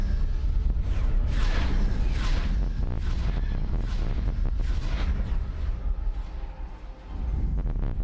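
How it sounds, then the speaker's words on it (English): Heavy booms and rumbling blasts roll on continuously from torpedo hits striking a ship bay during space combat in the video game X4 Star Wars Interworlds, with sharper impacts bursting out over a dense, loud battle din. "Oh no, the bay doesn't take torpedo hits."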